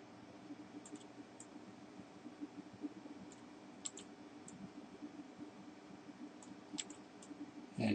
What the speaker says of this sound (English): Right mouse click to cycle through the various motions.